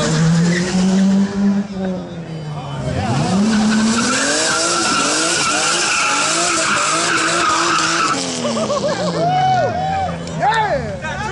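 A car doing a burnout at a car meet, with loud revving engine and squealing, skidding tires that rise and fall in pitch, while a crowd shouts and talks over it.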